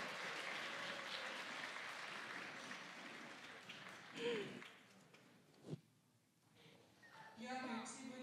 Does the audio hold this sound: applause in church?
yes